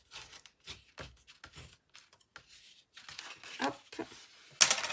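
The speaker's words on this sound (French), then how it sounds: "Alors, on marque nos plis." Paper being creased into mountain and valley folds for a tiered pop-up card: soft rubbing and crinkling strokes close by, intermittent and fairly quiet, ending in a sharper crisp crease.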